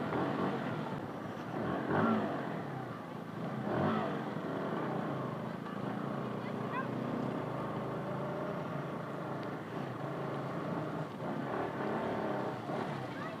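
A motorbike rides along a muddy road where snow has mixed into the mud and the tyre churns through slush. Its engine drones steadily and fairly close with no voice over it.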